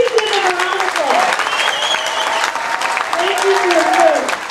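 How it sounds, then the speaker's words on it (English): Audience applause for veterans standing in a room at a political gathering, steady dense clapping for several seconds with a speaking voice carrying over it. "Please give them a round of applause."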